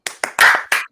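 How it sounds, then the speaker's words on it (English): A few loud, close claps from a small audience at a comedy show, four bursts in about a second, each sharp onset trailing off, with no talk over them. "Round of applause."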